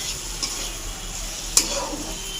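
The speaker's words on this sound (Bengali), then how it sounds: "ভালো করে নেড়ে দেবো।" Spatula stirring food frying in a pan, a steady close sizzle with a couple of sharp scrapes and taps against the pan.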